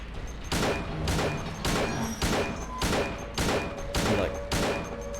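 Gunshots in Silent Hill 2 boom out one at a time at a slow, even pace, around six heavy reports with short ringing tails between them.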